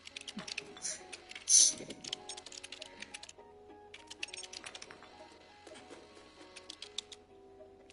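Keyboard typing inside the video game Stray, a quick run of soft clicky keystrokes over a quiet in-game ambience with a sustained musical tone.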